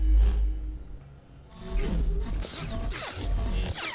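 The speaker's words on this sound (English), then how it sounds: "Because red lightsabers ignite differently, right?" Red lightsaber ignition from a Star Wars Ahsoka episode, a sharp crackling burst and whooshing hum amid loud fight impacts and clashing effects, following a brief quiet lull.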